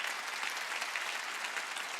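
A church congregation at a Sunday worship service applauds steadily, a dense, continuous wash of clapping from many hands filling the room without a break.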